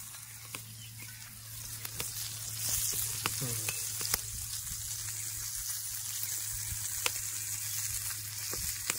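Chicken fries in oil on a clay roof tile over an open fire, giving a steady close sizzle with scattered pops and crackles and no talk.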